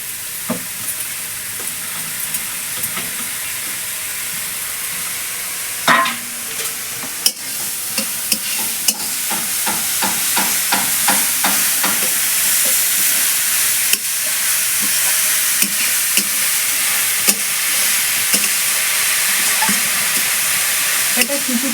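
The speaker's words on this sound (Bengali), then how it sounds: "শুকনো কোড়ায় এটা একটু হালকা করে নেড়ে নেব" Chopped kolai greens stirred in a dry wok, a dense hiss with rapid clicking scrapes of the spatula that quicken midway, close and loud, with faint speech now and then.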